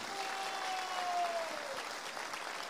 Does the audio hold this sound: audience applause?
yes